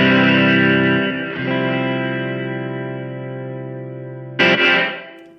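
Sustained electric guitar chords ring through a Keeley Verb O' Trem pedal in chamber reverb mode with pre-delay, long smooth tails changing pitch twice and a fresh strummed chord near the end blooming into echoing decay.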